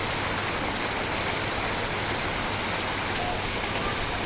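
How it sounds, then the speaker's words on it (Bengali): Rain drums on a tin roof in a steady, dense, unbroken hiss that holds at an even level for the whole stretch, with no voices over it. "এই বৃষ্টির শব্দে টিনের উপর যখন বৃষ্টি পড়ে তখন যে শব্দটা হয়"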